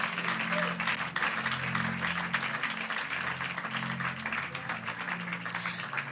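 An audience at a church service breaks into sustained applause, a dense, steady patter of many hands with a low hum underneath that lasts throughout.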